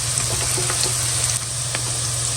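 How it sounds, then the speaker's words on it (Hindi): Steady, close sizzling of onions frying in a hot pan, with a few light clicks and stirring sounds and no talking. "इसको भी थोड़ा फ्राई कर लेंगे प्याज़ों के साथ"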